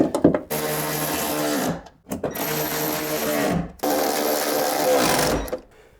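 Power driver whirring in two long bursts with a short pause between them, driving screws into the door check strap of a 2009-2015 Honda Pilot through thin sheet metal, close and fairly loud, ending with a brief clunk.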